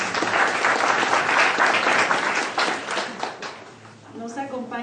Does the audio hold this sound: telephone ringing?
no